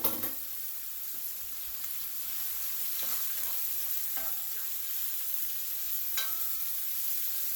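A big scoop of garlic frying in a pan for pork fried rice gives a steady, close sizzle with a few faint scrapes and ticks from stirring.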